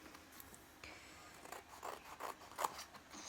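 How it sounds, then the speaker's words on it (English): Scissors trimming paper in a quiet room, a few faint snips and soft papery scrapes growing slightly louder toward the end, no talking. "So I'm just going to trim that down."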